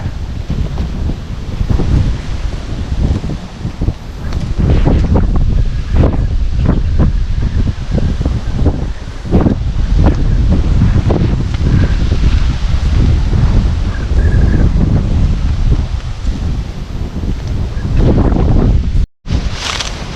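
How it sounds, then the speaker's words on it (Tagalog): Strong wind roars and buffets the microphone continuously for the whole stretch in a vegetable garden, loud and rumbling, with leaves rustling underneath. "Lakas ng hangin"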